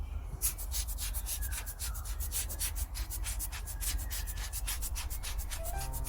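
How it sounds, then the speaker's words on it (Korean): Dust being brushed off a potted plant: rapid, rhythmic brushing strokes, close and crisp, repeating steadily for about six seconds with no talking. "이거를 먼지를 조금 털어 줄게요"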